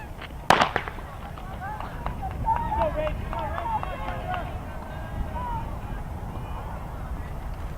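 A starting pistol fires at an outdoor high school track race in Lake Placid, giving one sharp, loud crack early on, followed by a murmur of crowd voices and open-air background noise.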